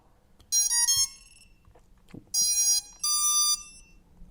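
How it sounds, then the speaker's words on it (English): A ViFly Finder Mini lost-model buzzer sounding in its low beep mode: three loud, shrill electronic beep bursts, each about half a second long, spaced apart with quiet gaps between them. "now the alarm is beeping a little bit on that low beep mode"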